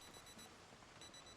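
Alarm clock in the video game Project Zomboid, a faint repeated electronic beeping in short evenly spaced bursts, alone with no one talking.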